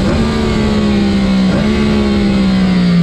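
A motorcycle engine revs loud and close during a rev-matched downshift, a continuous throaty drone with a brief blip in pitch midway before settling and sagging slightly lower.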